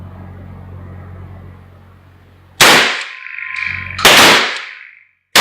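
A pistol or shotgun firing outdoors, two sharp loud reports about a second and a half apart, each with a ringing tail, over a low engine-like hum.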